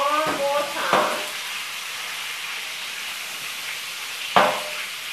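Chicken frying in a skillet, a steady hiss of sizzling fat, broken by a few sharp scraping clatters as the pieces are flipped.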